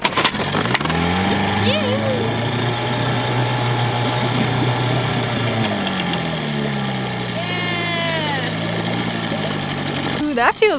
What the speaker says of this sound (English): Forever trying to fix the dinghy engine.